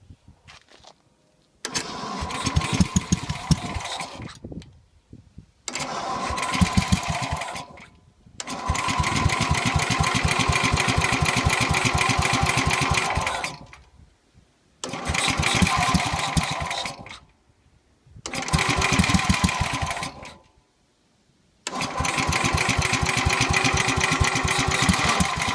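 A small carbureted tractor engine being readied for a plow day sputters and runs in uneven bursts with loud, close chugging and firing. It cuts out several times between runs, and a voice is heard faintly.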